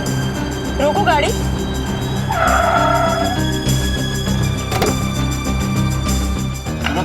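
A car braking hard to a stop, with a short tire skid and squeal rising over a loud rumbling engine and road noise while voices talk in the scene.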